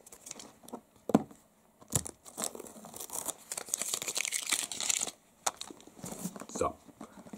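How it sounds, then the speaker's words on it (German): Stickers are peeled off a secondhand book nearby, with irregular tearing and crinkling bursts separated by short pauses, alongside soft handling noises and faint breathy murmurs. "Ich muss mal eben hier diese ganzen Sticker abmachen."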